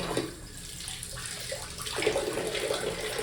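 Running tap water splashing steadily nearby as a child's face is washed, with the irregular shifts of hands scooping and rinsing under the flow.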